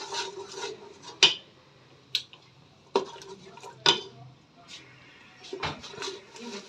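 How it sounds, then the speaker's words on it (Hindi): A spoon clinks and scrapes against a pan as masala roasts in ghee for mutton nihari korma, the sharp metallic knocks coming irregularly over a soft, steady background. "अब हम इसको अच्छी तरह भून लेंगे।"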